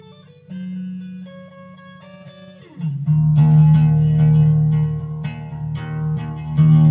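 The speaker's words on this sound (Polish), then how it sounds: "To jest kostka do okulele i ona" Ukulele strummed with a felt pick, soft plucked chords ringing out clearly and alone, the first notes gentle before the playing grows fuller and louder.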